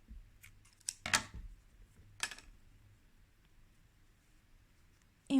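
Scissors snip crochet yarn at a headband project, giving a few crisp, close clicks with quiet pauses in between and a short thump at the very end.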